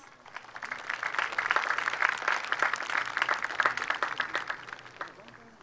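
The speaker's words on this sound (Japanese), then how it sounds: "今一度大きな拍手をお願いいたします" An audience at a Karate Day commemorative demonstration festival applauds after a karate performance by four group representatives, swelling into full, steady clapping that eases off at the end.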